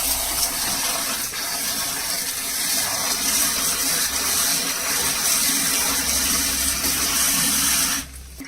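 Bitter gourd pieces are washed under steady, gushing running water, which flows close by for about eight seconds before cutting off abruptly.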